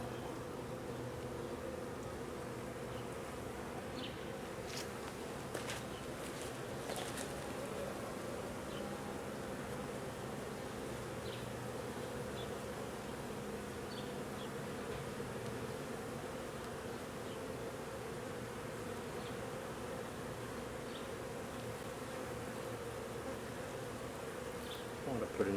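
Honeybees swarm around an open eight-frame hive while a nuc is installed, giving a steady, dense buzzing that runs throughout at a soft, even level, with a few brief clicks of frames being handled.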